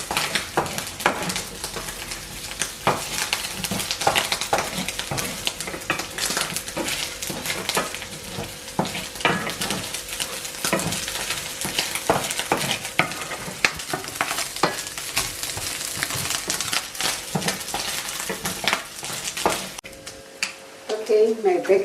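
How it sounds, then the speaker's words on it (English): Bacon frying in a pan until crisp, a steady close sizzle and crackle running throughout with occasional sharper pops, cut off near the end by a brief shift in sound. "My bacon is almost there. I just want it to be crisp so that it can be nice on my salad."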